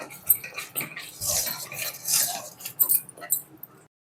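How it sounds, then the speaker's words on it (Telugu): A spoon stirs almond rava kesari with ghee in a metal pan, giving close, irregular scraping and clinking strokes over about four seconds before stopping. "కేసరి ఇలా దగ్గర పడినప్పుడు మనం కొంచెం నెయ్యి వేసుకొని మిక్స్ చేసుకోవాలి."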